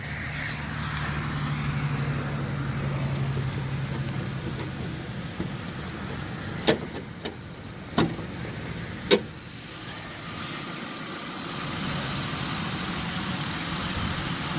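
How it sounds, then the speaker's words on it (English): A Pontiac Aztek engine idles with the hood open, a low, quiet steady hum, broken by a few sharp clunks and clicks nearby. "There's the engine. I mean, purrs like a kitten. Absolutely quiet."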